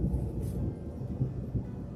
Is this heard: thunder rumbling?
yes